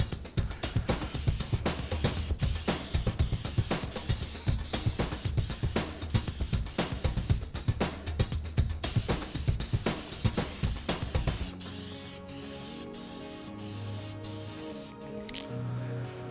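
A spray can hisses in rapid, close bursts while a second coat goes onto an RC car body, then the spraying stops and a quieter, fainter background follows.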